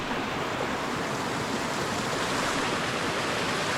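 Rushing water of a waterfall in the White Mountains of New Hampshire, a loud, steady broadband roar that fills the whole clip with no voices.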